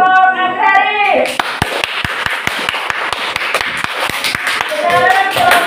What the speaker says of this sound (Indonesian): Tepuk tangan untuk kelompok agraris.